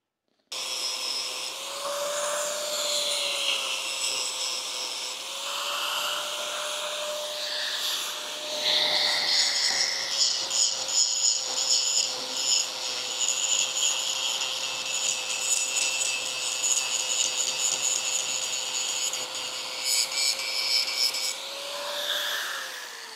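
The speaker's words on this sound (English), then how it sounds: "grinder will clean that up" A grinder works metal on a John Deere excavator being readied for sale. It gives a steady, loud abrasive whine and rasp for the whole stretch, and the grinding grows rougher and more gritty partway through.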